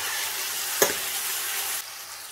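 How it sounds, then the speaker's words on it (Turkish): Salt being stirred into pasta sauce in a pan, a steady sizzling simmer throughout with a single sharp clink of the spoon partway, the bubbling noise dropping off slightly near the end. "Bir tatlı kaşığı tuz ilave edip karıştırıyoruz."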